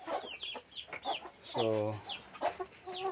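Free-range village chickens cluck close by in short, bursty calls, with one longer drawn-out squawk in the middle, while someone speaks a single brief word.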